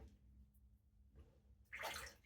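A shaving brush is dipped into water during a wet shave: a short, bright splash and swish near the end, after a couple of seconds of near quiet.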